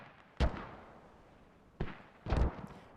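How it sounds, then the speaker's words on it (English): Mortar shells explode in the tactical shooter game Squad: three sharp, booming blasts, the first and last heavy and close, with a lighter burst between them, each fading over a low rumble of background noise. "Mortars already landing and doing damage down here on Rip, their reinforcements."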